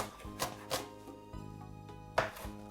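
A knife cuts pieces of chicken on a board for Jamaican stew chicken, a few sharp, close chops spaced irregularly, with a soft scraping stretch between them and no talking.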